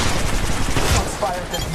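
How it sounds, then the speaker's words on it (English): Continuous rapid gunfire in Apex Legends Mobile, a loud, busy stream of shots close up with bursts overlapping, mixed with game noise and talk throughout. "Shots fired at me."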